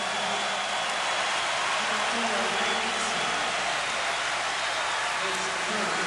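A large basketball crowd at Williams Arena roars in celebration of a Minnesota win over Wisconsin, a dense, continuous wash of cheering and applause that stays loud throughout.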